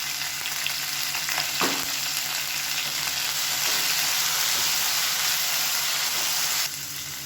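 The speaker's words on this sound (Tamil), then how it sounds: "இது எல்லாத்தையுமே வதக்கி விட்டுக்கலாம்" Mint and coriander leaves sautéing in a pan for a kattuyamam rice adai, a steady close hiss and sizzle running throughout with a brief stir clatter.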